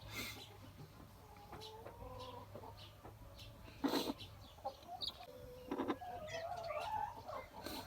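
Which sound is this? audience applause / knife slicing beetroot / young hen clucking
young hen clucking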